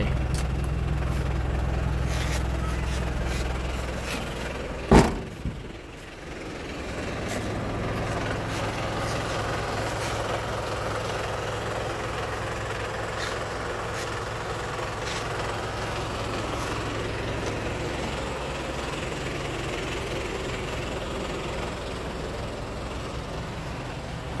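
A used 1994 Isuzu TFR pickup engine cranks and catches with a sharp burst, then settles into a steady, low, even idle that runs on unchanged, close by and fairly loud.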